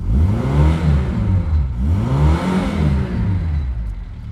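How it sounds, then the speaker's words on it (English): A car engine with its thermostat removed revs repeatedly in long rising and falling surges, loud and close, with a throaty rumble and no talking. "What a rorty little engine this is becoming"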